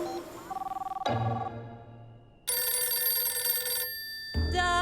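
A telephone rings with bright electronic trills in separate bursts, loud and close, broken by short pauses.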